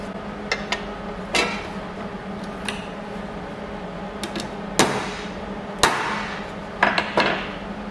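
Hammer tapping a spot on a welded medallion patch for a Case 830 tractor: about nine sharp, irregularly spaced metallic taps, close and moderately loud against a low background hum, with no talking.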